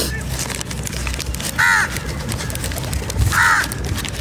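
Two harsh crow caws ring out clearly, about two seconds apart, over a steady outdoor background hum with faint murmuring.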